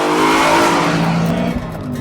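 A BMW M3 engine roars loudly at high revs while accelerating on a race track, a steady powerful drone with a slight shift in pitch near the end.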